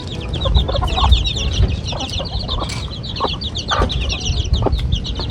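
Chickens, including three white hens, cluck and chatter steadily in a backyard farm setting, with several birds close by and overlapping throughout and no one speaking.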